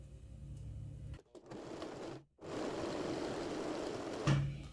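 A domestic sewing machine stitches mesh fabric for a bottle and phone holder, running in a steady whir that stops briefly twice and then resumes, heard up close.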